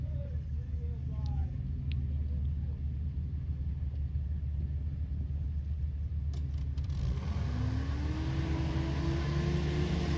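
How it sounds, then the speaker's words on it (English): A buggy engine revs hard as it climbs a very tall, steep off-road obstacle, a steady loud drone with rising pitch near the end, under a constant rumble. "Back up and get a few more revs"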